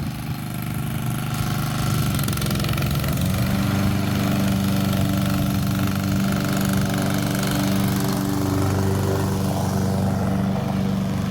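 A lawn mower engine running steadily while a ten-year-old child mows, a loud close droning rumble that shifts pitch slightly as the load changes, with no talk.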